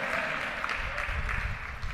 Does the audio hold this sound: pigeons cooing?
no